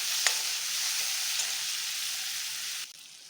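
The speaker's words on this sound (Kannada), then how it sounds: "ಟೊಮ್ಯಾಟೊನ ಸ್ವಲ್ಪ ಸ್ಮ್ಯಾಶ್ ಆಗೋವರೆಗೂ ಫ್ರೈ ಮಾಡ್ಕೊಳ್ಳೋಣ." Chopped tomatoes fry with softened onions in a hot pan, giving a steady close sizzle with a couple of faint stirring clinks, cut off abruptly near the end.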